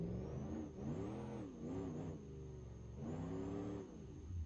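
Monster Max monster truck with a custom exhaust in BeamNG.drive revs hard in repeated rising and falling bursts, a loud, close engine roar with a steady high whine over it and no talking.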